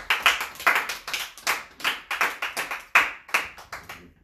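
A church congregation claps in a steady, rhythmic beat during a worship service, with sharp hand claps repeating close and loud for several seconds.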